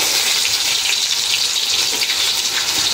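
Garlic and onion dropped into hot oil for khichuri, a loud, steady, dense sizzle of frying that holds constant from start to finish without pause.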